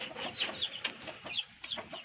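Chickens clucking on a backyard poultry farm, several birds giving short, repeated clucks and squawks at a faint, steady level with no one speaking.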